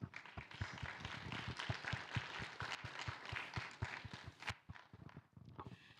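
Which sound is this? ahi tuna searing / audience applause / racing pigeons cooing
audience applause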